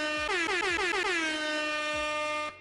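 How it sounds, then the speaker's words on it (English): A classic air horn sound effect blasts loud and close for about two and a half seconds, one sustained brassy tone with warbling pitch bends, then cuts off abruptly; no one talks. "then we have our classic air horn"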